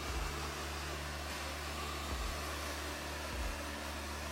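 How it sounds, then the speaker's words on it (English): A hair dryer set to cold air blows in a steady, broadband whoosh with a low motor hum, close and continuous, with faint periodic thumps underneath. "I'm just going to apply it with cold air from the hairdryer"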